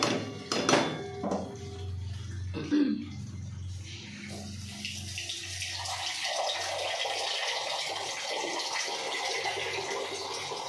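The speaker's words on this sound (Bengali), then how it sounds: "এবার আমি অ্যাড করছি জল, এই মশলার জলটাই আমি অ্যাড করছি।" Spiced water pours into a simmering Bengali bata fish curry with oil, a steady splashing flow at close range that starts after a few brief clatters and runs on.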